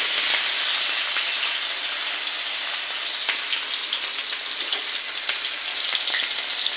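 Ginger garlic paste and green chillies fry in hot oil in a home kitchen, giving a steady, loud, close sizzle with faint crackles throughout and no voices.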